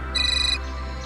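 A mobile phone ringtone sounds nearby, a short bright electronic trill pulsing rapidly for about half a second before cutting off, with a faint steady background hum.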